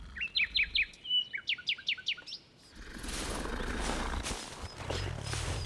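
Magical cartoon bird chirps in a bright, quick run of rising tweets over about two seconds, then gives way to a broad, steady wash of noise and rumble in a snowy Christmas animated adventure.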